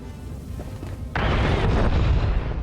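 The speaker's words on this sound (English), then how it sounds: "A lot of explosions, getting very close." A sudden loud boom of game explosions from Star Wars: The Old Republic erupts partway through and rolls on as a dense, close rumble after a quieter stretch.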